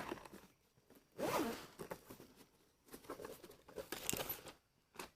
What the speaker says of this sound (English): The old double zipper.